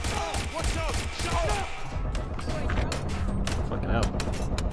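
Video game gunfire in Watch Dogs Legion, rapid bursts of shots cracking in quick succession amid game effects and chatter, loud and dense, with a player talking over it.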